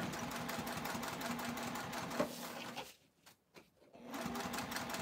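A Juki sewing machine runs steadily while top stitching vinyl at a 3.5 stitch length, making a fast, even mechanical whir. It pauses briefly near the middle, then starts again.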